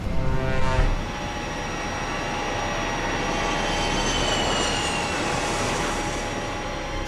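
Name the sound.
B-52 bomber taking off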